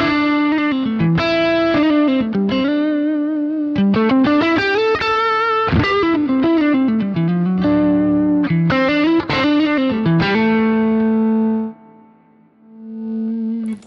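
An electric guitar through a Boss GT-1 multi-effects modeler plays a melodic phrase with lush reverb and delay, notes echoing and smearing together before a final chord fades out.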